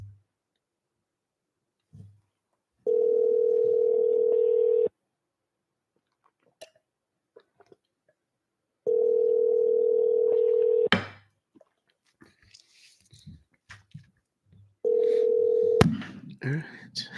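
A telephone call in progress plays three long, steady tones about two seconds each, separated by several seconds of near quiet. Clicks, handling noise and brief voices fill the gaps.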